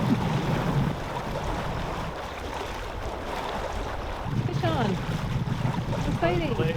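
A sailboat running under its head sail in open water, with steady wind rushing past the microphone and water washing along the hull, while people talk intermittently.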